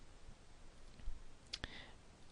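Two sharp mouse clicks in quick succession over a faint, quiet room background, with a few softer taps just before.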